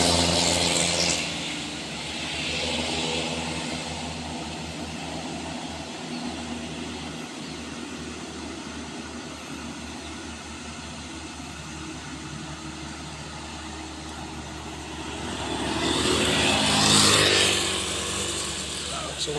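A loaded dump truck's diesel engine idles and then revs up as it pulls away, a low droning rumble that swells near the end, with traffic noise around it.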